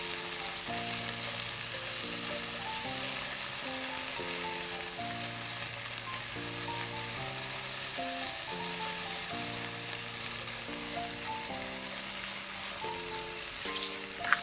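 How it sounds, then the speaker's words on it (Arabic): Chicken sizzles and fries steadily in a pan for Chinese Canton-style chicken, a loud, continuous crackle with no pauses and no talking. "تقليب خفيف حتى لين يتحمر كله على الجهات، ونقعدوا نحمروه"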